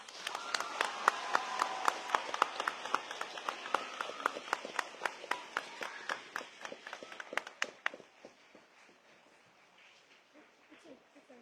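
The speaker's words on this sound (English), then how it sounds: "Give our guests a big Guardian round of applause." Students at a school ceremony applaud their guests, loose individual claps that build into a quick burst, then thin out and fade to scattered taps.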